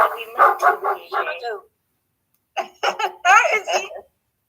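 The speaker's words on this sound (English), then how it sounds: "Is that your little short person barking? It's my dog, yeah." A small dog yaps in rapid, high-pitched bursts, close by, pausing briefly before another flurry of excited barks.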